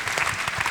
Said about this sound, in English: let's give a big round of applause for our demonstrators